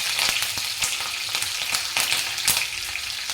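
Steady crackling sizzle of mustard seeds popping in hot oil, dense and continuous with sharper pops scattered throughout, close up.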